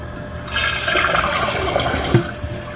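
A running toilet lets water out of its tank during a float adjustment, a loud close rush of flowing water for a couple of seconds with a small clunk near the end.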